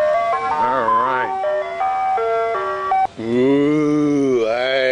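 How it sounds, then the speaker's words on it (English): An ice cream truck plays its tinkling chime melody loud and close, the tune running continuously through the whole stretch. "Bye, ice cream truck. She's leaving."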